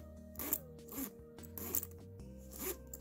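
A gold zipper on a magazine gift pouch is pulled open and closed several times in short, close raspy strokes with brief gaps between them.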